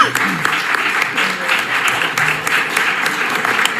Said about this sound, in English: we need to give them a unanimous round of applause for their hard work